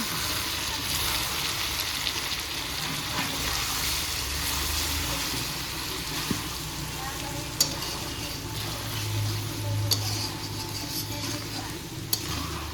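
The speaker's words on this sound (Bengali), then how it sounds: "ভালো করে কষিয়ে নিচ্ছি দিদি" Spices and red chilli sauté in a pan, with steady close sizzling and frying hiss and occasional scrapes and clinks from stirring, continuous at a moderate level with no clear talking.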